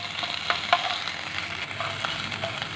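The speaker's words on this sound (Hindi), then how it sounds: "अब हम इसमें लहसुन का पेस्ट शामिल करेंगे। इसे 1 से 2 मिनट भून लेते।" Garlic paste frying in oil in a pan gives a close, continuous sizzle with scattered sharp pops and a few stirring scrapes, no voices over it.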